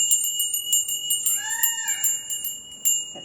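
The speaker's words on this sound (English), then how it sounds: "Get the little bell going." A small hand bell rings in quick repeated strikes, a bright steady jangle with sustained high ringing tones, fairly close and alone without any talking.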